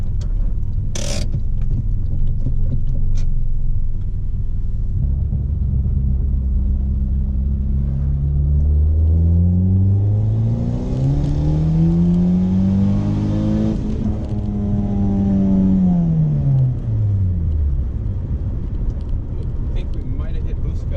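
Boosted Honda Accord pulling hard through the gears, a loud rising engine drone climbing in pitch for several seconds before cutting back abruptly and falling away, with a steady road rumble throughout.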